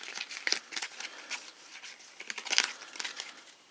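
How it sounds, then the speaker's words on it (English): A deck of Steamcraft game cards being shuffled, a run of quick papery riffles and crinkling bursts, close but faint, with no talking. "then I will go ahead and shuffle up my deck"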